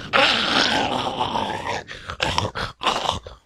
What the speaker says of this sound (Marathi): ती एखाद्या जनावराप्रमाणे गुरगुरत होती